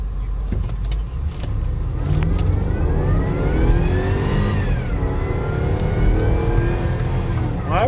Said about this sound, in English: I'm gonna give it a little bit of a high revving run here and make sure that it feels right